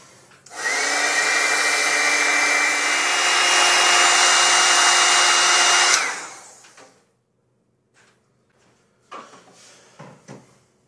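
A heat gun runs loud and steady for about five seconds while desoldering a micro stepper driver chip, with a constant whooshing airflow and whine, then cuts off, followed by a few faint clicks and handling noises.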